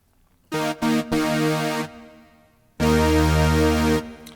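A Waldorf Kyra synthesizer plays a very simple patch of two slightly detuned sawtooth oscillators, first a brief stuttered attack then sustained buzzy notes, a pause, and another long held tone.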